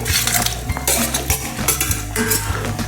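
Half-cooked pork being stirred with masala in a pan, with loud close clanks and scrapes of a metal spoon against the pan over a low sizzle.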